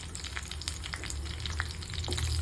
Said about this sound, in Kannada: ಇದಕ್ಕೆ ಒಂದು 2 ಚಕ್ಕೆ, 4 ಲವಂಗ, ಸ್ವಲ್ಪ ಶುಂಠಿ, ಇದನ್ನೆಲ್ಲ ಎಣ್ಣೆಯಲ್ಲಿ ಚೆನ್ನಾಗಿ ಫ್ರೈ ಮಾಡ್ಕೊಂಬೋಣ.